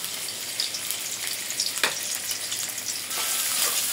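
Onions frying in oil in a wok: a steady, close sizzle fills the whole stretch, with a sharp stirring scrape partway through.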